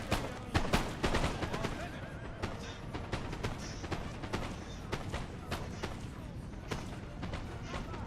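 Musket volleys crackle in Napoleon: Total War, sharp scattered shots ringing out amid horses whinnying and hooves clattering, a dense battlefield din with repeated gunfire bursts.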